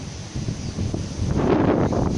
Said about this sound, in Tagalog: pero mahangin na rin po